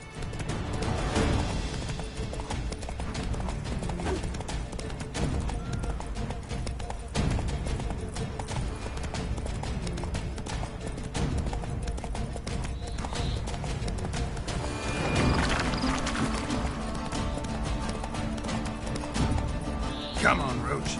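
In The Witcher on PS4, a horse gallops in steady, rhythmic hoofbeats that run throughout under game sounds. A voice talks over it now and then.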